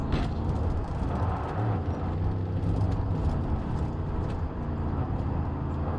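A tractor engine in the Far Cry 5 video game runs as a steady low rumble throughout, with a continuous drone and some mid-range clatter.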